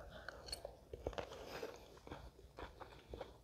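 Crunchy ramen noodles are bitten and chewed close to the mic in a series of soft, irregular crunches, with faint breathy sounds between bites.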